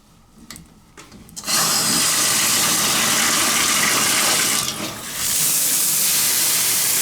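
In a hotel bathroom at the New York Marriott Marquis in Manhattan, an exhaust fan inside the shower is switched on after a few clicks and settles into a loud, steady broadband whoosh, dipping briefly once before resuming at full strength.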